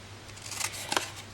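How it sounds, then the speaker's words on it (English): Scissors snip through designer series paper with two crisp, close cuts about a third of a second apart, heard against a quiet room. "just cut that piece there off completely."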